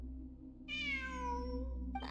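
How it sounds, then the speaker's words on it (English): Cat meowing inside a video game exploring ruins: a single drawn-out meow with a falling pitch, clear and close over a steady low background hum, followed by a short rustle. "It really is a cat."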